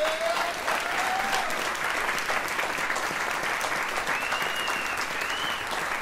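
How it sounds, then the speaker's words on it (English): Steady crowd applause at an outdoor harvest gathering tribute to a musician, sustained clapping at moderate distance with faint whistles rising above it. "I just want to give a round of applause to Seth and May."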